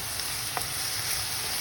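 A brief, even sizzle of caramelized chicken with vegetables, bell pepper and shelled broad beans frying in a pan, constant and moderately loud with one faint tap.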